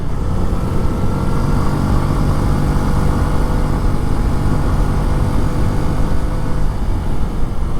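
A Bajaj Freedom 125 CNG-capable motorcycle with a 5-speed gearbox runs on petrol while ridden, a loud, steady engine drone mixed with rushing wind and road noise, with no voices.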